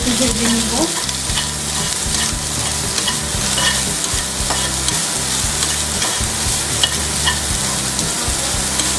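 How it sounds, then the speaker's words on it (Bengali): Grated coconut fries and sizzles in hot ghee for a laccha semai laddu, stirred steadily with a spatula scraping the pan in a repeating rhythm, close and continuous with no talk. "এবার ঘিয়ের মধ্যে আমি নারকেলটা দিয়ে দিচ্ছি"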